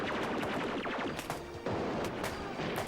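Explosions and blasts from a Doctor Who Silver Nemesis battle scene with Cybermen, a dense run of sharp cracks and bangs that keeps going, heard faintly at a distance.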